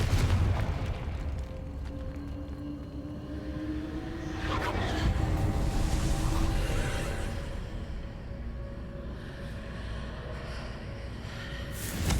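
A Confringo fire-blast spell detonates in Hogwarts Legacy, a deep rumbling boom that swells and slowly fades against a low, steady game background.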